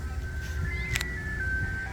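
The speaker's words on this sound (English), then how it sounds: "Do you guys have that in your neighborhoods? The ice cream truck?" An ice cream truck plays its jingle out in a residential neighborhood, a steady tinkling tone that slides between notes over a low rumble of nearby traffic and outdoor noise.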